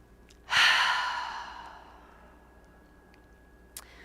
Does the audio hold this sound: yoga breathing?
yes